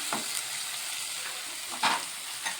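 Potatoes frying with green chilli, ginger, tomato paste and cumin powder in a pan give a steady close sizzle, with a few brief stirring scrapes rising over the hiss.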